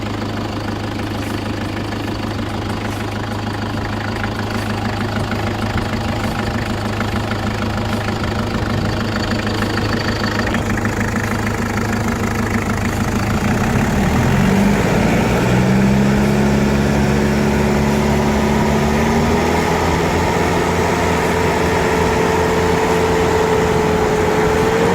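A Mitsubishi Adventure turbo diesel engine idles close by, a loud steady rumble with a low drone; midway the revs shift slightly and a rising whine emerges over the continuous engine noise.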